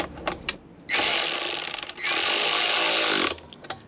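Power tool tightening an exhaust nut on a 1982 Fiat 124 Spider during a stainless steel exhaust install, two loud sustained whirring bursts of about a second each, separated by a brief pause, with small clicks before and after.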